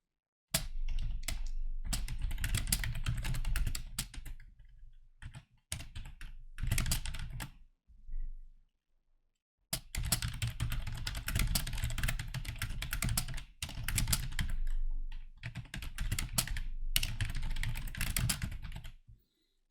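Keys clatter in steady bursts as someone types into an online scholarship application form on a computer keyboard, close and clear, with short pauses between runs of typing.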